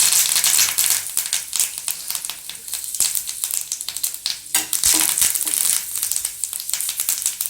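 Curry leaves dropped into hot oil with turmeric, garam masala and sambar powder for a raw banana fry, crackling and sizzling loudly and continuously in the pan, with dense spitting bursts throughout.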